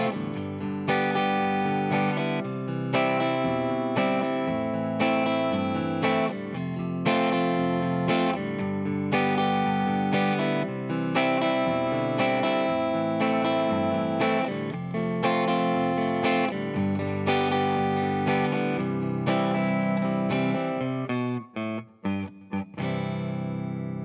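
Guitar strums the chorus of a song, loud and steady rhythmic chords through an effects-laden, slightly distorted tone, ending in a few choppy strokes, no singing or talk.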